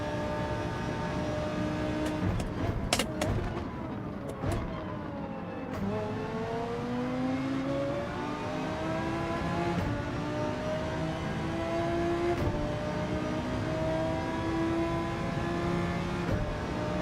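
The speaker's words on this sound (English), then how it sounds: "The guy in the Citroen's just pulling away now." A Citroen race car in Gran Turismo 7 accelerates away, its engine note rising steadily through the gears with a brief shift dip, a continuous close whining roar under other engines with no talk.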